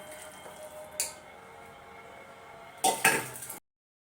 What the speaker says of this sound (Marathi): भाजीनं मी या पातेल्यामध्ये काढून घेते